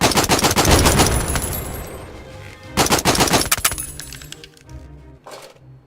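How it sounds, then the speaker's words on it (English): Gunfire in the VR shooter Out of Ammo, loud close bursts of rapid automatic fire in two long strings, then a shorter burst, with metallic clinks of spent casings between them. "Fire off all your remaining rounds or press the right app button now."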